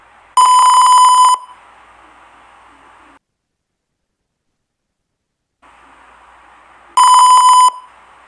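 An LM35 temperature monitor's buzzer gives two loud, shrill electronic beeps about six seconds apart after the temperature goes over its target, with a faint hiss between them and a stretch of silence.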